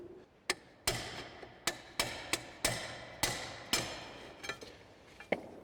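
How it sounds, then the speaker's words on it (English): Metal hammer blows drive a splined shaft into a Land Cruiser 100 differential during a repair, roughly a dozen sharp ringing strikes at an uneven pace, close and clear with no talking. "and I can hammer it"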